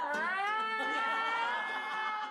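A cat gives a long, drawn-out meow that wavers in pitch, close and clear, with nothing else heard.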